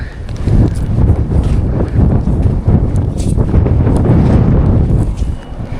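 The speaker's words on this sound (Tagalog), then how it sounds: "Buti na lang po medyo mahangin-hangin ngayon kasi hindi mainit masyado." Wind blowing outdoors while fishing, steady gusting buffeting against the microphone, loud and rough with uneven surges throughout.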